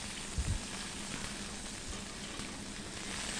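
Mushrooms dropped into a pan of frying masala, a steady, even sizzle with a soft thump at the start and no voices.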